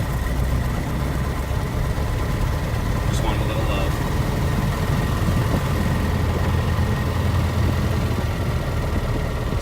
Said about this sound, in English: Key in, turn, and we're gonna start. It'll turn the propeller.